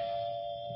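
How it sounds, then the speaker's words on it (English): Doorbell sound effect from a 1978 radio drama: a single sustained electric chime tone holds steady for under a second, clear and alone, with no voices. "Anyone you know wouldn't stop to ring doorbells."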